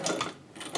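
A Chinese manual leather sewing machine runs briefly, its mechanism giving a close, steady mechanical whir with a few louder pulses, with no voices.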